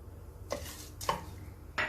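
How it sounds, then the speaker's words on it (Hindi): Bay leaves, Kashmiri chilies, whole black pepper, cloves and cinnamon sticks fry in oil in a pan. Three close spatula stirs scrape over a faint, steady sizzle, and no one speaks. "इनको तकरीबन 1 मिनट तक मैं इस ऑयल में भूनूंगी अच्छे से"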